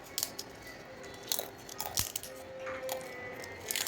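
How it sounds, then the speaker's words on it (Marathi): Large homemade potato chips are bitten and chewed, producing several sharp, crisp crunches in quick bursts over a quiet background, heard up close. "किती कुरकुरीत आवाज येत आहे"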